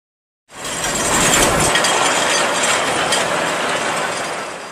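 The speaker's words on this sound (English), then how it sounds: "Cable car." Cable car machinery runs with a continuous mechanical clatter of gears and ratcheting, loud and steady for several seconds after a sudden start.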